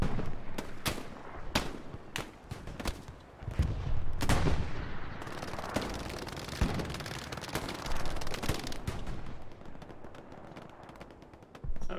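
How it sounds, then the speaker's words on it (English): Video game gunfire crackles in scattered sharp shots and short machine-gun bursts, some close and loud, others more distant, over a steady battlefield rumble with no talk. "That was an MG, but where was that?"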